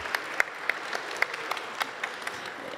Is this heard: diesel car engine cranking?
no